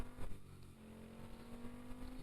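A car pulls away in the Car For Sale Simulator 2023 video game, its steady engine drone holding even and moderately loud for about two seconds, with no talk over it.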